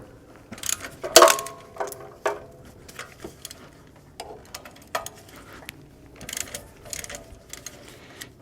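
A ratchet wrench with a 14 mm socket works loose the bracket mounts on a Toyota 2.2L 5S-FE Camry engine, giving scattered short clicking bursts and metallic clatters with pauses between, close and fairly quiet.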